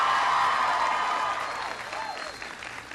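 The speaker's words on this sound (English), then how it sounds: "Give Tevin a big round of applause." A high school audience at Manor New Technology High School in Austin, Texas applauds during a presidential visit: thick, continuous clapping that gradually eases in loudness.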